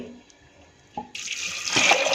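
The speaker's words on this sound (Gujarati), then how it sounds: "ચણા ડૂબે એટલું પાણી એડ કરીશું" A short quiet knock, then water starts pouring over chickpeas in a pot, growing into a steady splashing stream that gets louder toward the end.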